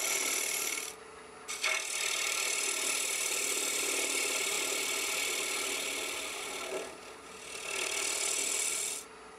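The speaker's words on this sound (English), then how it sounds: "I'm going to modify it using a curved scraper because it's the quickest way to get a curved surface." A sharp curved scraper shaving a wooden hollow sphere turning on a lathe, a continuous close rasping hiss with two brief breaks where the tool lifts off the wood.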